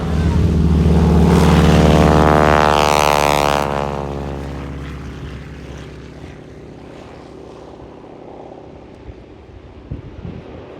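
A Grob light propeller aircraft roars past with a loud, snarling buzz that sweeps in pitch and then fades into the distance.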